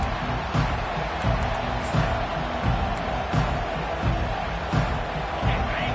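A packed college football stadium crowd roars steadily through the opening kickoff of a Utah versus Virginia game, a dense, sustained wall of cheering with faint rhythmic thumps underneath.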